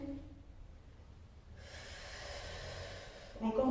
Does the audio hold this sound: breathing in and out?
yes